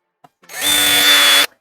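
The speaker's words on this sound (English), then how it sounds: "And a drill. Gotta have one of them." A power drill whirs up to a steady high-pitched whine for about a second, then cuts off, with a small click just before it starts, while mounting an EMPI bench-top engine stand for a 1971 VW Super Beetle.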